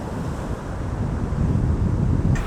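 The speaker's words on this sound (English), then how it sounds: "There are some fairly rough waves here" Rough surf rolling onto a Texas Gulf beach, a steady broadband roar of breaking waves mixed with gusty wind buffeting the microphone, loud and continuous with no voices.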